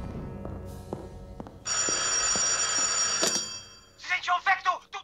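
A telephone rings in a 1984 comedy film scene, its bright electronic bell lasting a couple of seconds at moderate loudness, with footsteps and clatter before it and voices talking right after.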